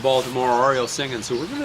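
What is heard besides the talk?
No everyday noise stands out behind the speech.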